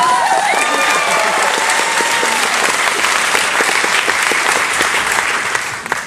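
Loud, sustained applause from a cruise-ship concert audience, dense clapping filling the space from start to finish with a few brief whistles early on, then tapering slightly at the end.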